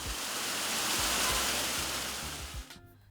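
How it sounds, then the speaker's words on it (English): A cascading waterfall on a nature property in Jamaica roars as a dense, steady wash of falling water, with a few low thumps underneath before it cuts off near the end. "Enjoy the cascading falls, explore the astounding underwater cave"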